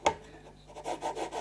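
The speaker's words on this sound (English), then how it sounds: "the 400 grit, you can just see it starts to cut the top of the fret" A guitar fret on a Fret King Country Squire rubbed with 400 grit abrasive: a close, soft rasping scrape in several short even strokes after one sharper initial contact.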